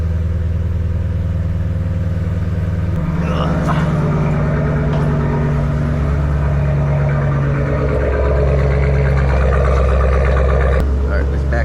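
Ford Mustang with a manual gearbox, just tuned after a cylinder 1 misfire, idling steadily with a loud low rumble that swells as it is backed out; someone talks over it.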